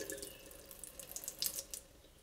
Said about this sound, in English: maybe those are the last drops of water coming outside